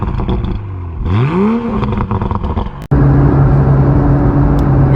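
A 2020 Toyota Supra GR engine rises in a loud revving sweep, then settles into a steady, heavy rumble after a sharp clunk, heard close and strong.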